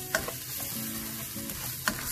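Garlic and ginger sizzle steadily in a hot pan for chicken vindaloo, with sharp scrapes and clacks of a spatula stirring close up and no voices.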